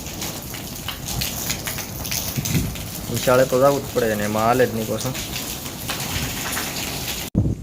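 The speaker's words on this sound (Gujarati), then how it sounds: "વરસાદ થઈ ગયો છે ચાલુ પાછો" Steady rain patters on surfaces throughout during a windy cyclone storm, a constant hiss, while a person speaks briefly over it midway.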